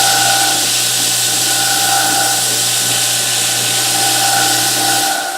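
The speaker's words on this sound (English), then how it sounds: "put a nice taper on this shim" A power tool tapers a wooden shim for a Taylor guitar neck reset, giving a continuous high whine with a steady hum beneath that fades at the end.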